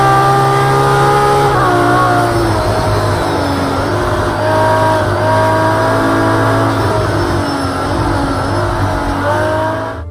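Race car engines in the video game Project Cars 2 roar loudly and continuously, with several revving engines rising and falling in pitch through gear changes, close up and without speech.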